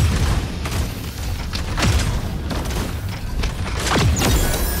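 Weapons fire in the mecha battle game Super Mecha Champions comes as a string of booming, thudding shots at an uneven rhythm over a constant rumbling mechanical background.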